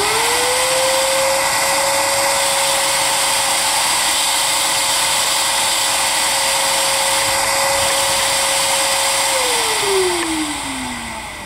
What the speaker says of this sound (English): I'm gonna turn on the shop vac now